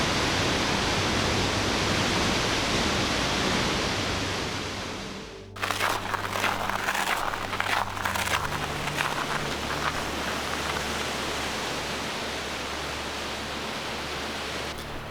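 Curly Creek Falls in a Washington national forest, a steady broadband roar of falling water that dips briefly before resuming at a closer, slightly rougher rush.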